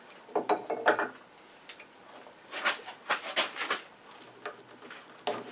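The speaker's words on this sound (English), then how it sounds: "Let's use this wrench." A wrench works loose the chuck on a wood lathe during ring bowl turning, giving a cluster of metallic clicks and ratcheting knocks, then a second burst of scraping, clanking taps a moment later, close and fairly quiet.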